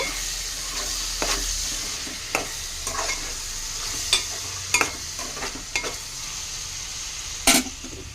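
Cauliflower and chana dal curry frying in oil in a pan, a steady close sizzle broken by scattered scraping stirs of a spoon against the pan, with no voices.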